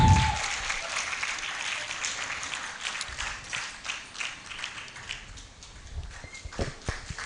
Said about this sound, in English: The applauds are getting cold.